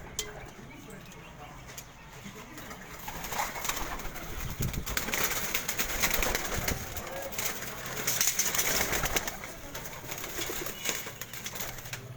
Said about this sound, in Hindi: ये एक कबूतर है